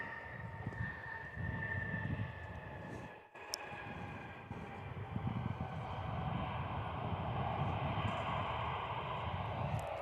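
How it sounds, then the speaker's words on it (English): An Embraer airliner in blue livery touches down at Perth airport, a faint, distant jet roar mixed with some wind buffeting and holding steady throughout, without voices. "With that Embraer and lovely blue livery here. Just touching down there."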